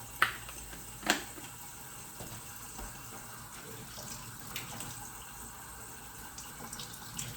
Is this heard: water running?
yes